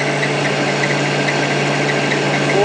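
A small engine runs steadily at about 4,000 RPM, driving a permanent magnet alternator (PMA); the drone is continuous and loud with a constant hum and vibration, and no voices are heard.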